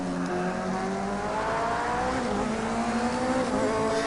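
Race car engine in the Project Cars video game, a steady, loud high-revving drone with rising engine tones, heard alone without talk.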